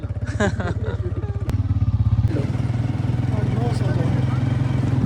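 A motorcycle engine starts and settles into a steady, loud, low rumbling idle in a village setting, with faint voices in the background.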